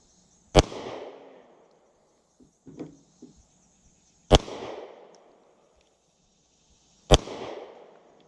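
Three sharp, loud rifle shots from a semi-automatic rifle with an added grip and extended magazine at an outdoor shooting range, spaced several seconds apart, each cracking close by and trailing off in a short echo, with faint handling clicks between.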